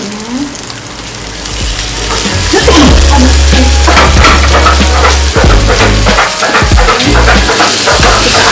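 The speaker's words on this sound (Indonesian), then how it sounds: "Kita aduk sampai tercampur rata." Mi goreng terasi with added seasoning being stirred in a hot pan, a loud, steady close sizzle with repeated scraping and clacking of the utensil against the pan throughout.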